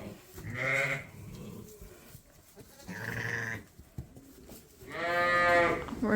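Dorset sheep and lambs bleat in three loud, close calls spaced a couple of seconds apart, each a wavering harmonic cry, with quieter barn rustle between them.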